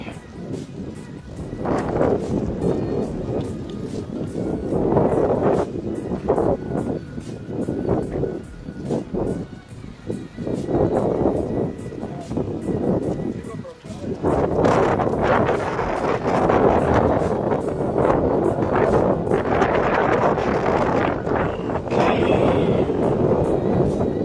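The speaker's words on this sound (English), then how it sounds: "Wind is strong." Strong wind blows across the open canyon country of Canyon de Chelly, Arizona, buffeting the microphone in loud gusty surges that rise and ease over about twenty-four seconds, with no one speaking.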